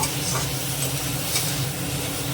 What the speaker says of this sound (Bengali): দিয়ে আমি হালকাভাবে নেড়ে নেব।